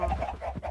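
Minecraft chickens clucking, a short burst of a few close, soft bird calls.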